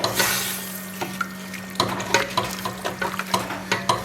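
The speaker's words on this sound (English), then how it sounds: "Now let's give this a nice stir." Beef stew with Worcestershire sauce is stirred in a pot, a spoon scraping and knocking in an irregular rhythm over a low bubbling simmer and a faint steady hum, close and clear, no speech.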